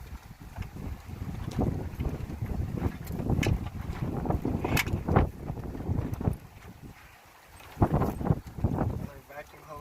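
Gusty wind buffets the microphone with low rumbling roar, rising and falling under a voice talking throughout.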